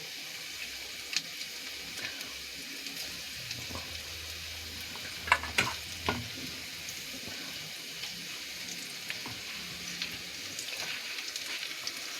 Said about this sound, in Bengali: আমি এখন হাফ ভেজে রাখবো